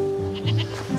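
A goat bleats in a single brief, wavering cry near a farm barn, close and clear over steady low background hum.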